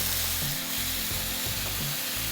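Onion and tomato paste frying in hot oil for a Telugu fish curry, a steady close sizzle with a few stirring scrapes, no talking.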